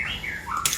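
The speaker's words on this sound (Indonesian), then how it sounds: "di sini banyak suara burung karena saya adalah" Oriental magpie-robins, or murai, give a quick, clear chirping call with sliding whistled notes, ending in a sharper bright burst, close and moderately loud over a soft background hum.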